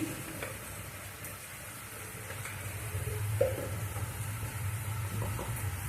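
Turmeric tipped into hot oil in a pan for a spicy pabda fish curry, a continuous close hiss and sizzle with faint stirring scrapes and no talk.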